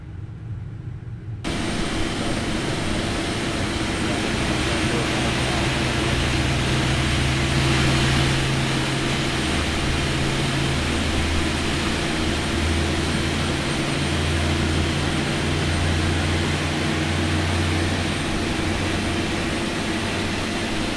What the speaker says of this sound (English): starting up engine 2